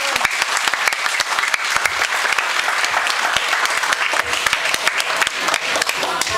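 Sustained applause from an audience at a Nepali community association gathering in Luxembourg, steady and dense for the whole stretch with no talk over it.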